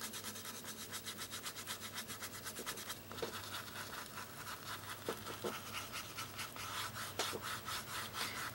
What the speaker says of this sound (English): I'm still just giving very light pressure here. I'm not scrubbing hard.